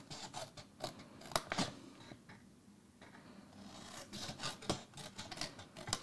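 Scissors snip through colored cardstock while a crafter builds a four-tealight gift box, with several quick close cuts, a brief lull in the middle, then another run of snips.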